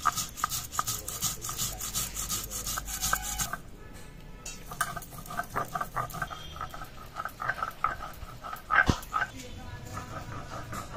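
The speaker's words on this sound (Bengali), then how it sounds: "এবার আমি মশলাগুলো বেটে নিই একে একে।" Mustard and poppy seeds are ground together by hand on a grinding stone, making steady rhythmic scraping and rubbing strokes, close and repeated, with a brief quieter pause partway through.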